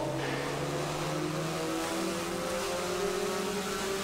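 Car running on a chassis dyno in a motorsport workshop, a steady engine drone with slowly rising pitch as it gains revs, heard from some distance and without talk.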